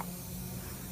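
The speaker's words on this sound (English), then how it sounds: "it's a glossing spray" A can of glossing spray with precious oils hisses onto hair during a haircut, one short, steady, close burst of spray.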